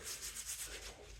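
Grimy hands after cleaning bolts are rubbed together to get clean, making a close, dry, rhythmic scrubbing that pulses steadily in repeated strokes with no talking.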